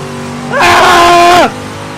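A race car engine at full throttle in Project Motor Racing, a loud sustained rising rev for about a second with rattling harmonics, starting and cutting off abruptly.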